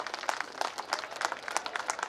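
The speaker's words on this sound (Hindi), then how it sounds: "श्री सिंह जी द्वारा श्री अनिल राय जी को सम्मान के लिए जोरदार तालियां।" Applause at an annual community gathering as a memento is presented, a moderate crowd clapping in a fairly rhythmic, steady pattern, mid-distance and sustained throughout.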